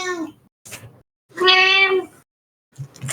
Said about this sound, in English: Oh, that's my cat joining the Q&A.